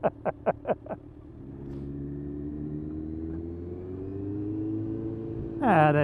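Kawasaki Z1 motorcycle exhaust blipped in four quick revs, then a steady loud engine rumble holding and gradually rising, ending in another sharp rev near the end.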